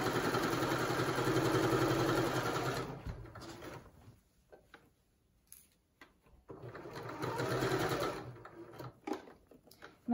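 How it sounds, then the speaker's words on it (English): A sewing machine stitches a pocket seam on pyjama trousers, humming loudly in a steady burst, pausing for soft handling noises, then whirring again in a second run. "I'm just gonna sew down here until I get to this pink dot"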